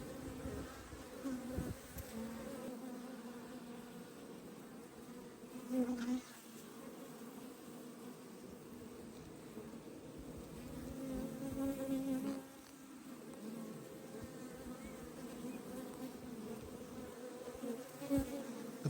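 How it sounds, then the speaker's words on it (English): Honey bees buzzing around their hive, a dense continuous hum of many wings close by, swelling and easing as individual bees pass near, with no talk. "The bees are buzzing."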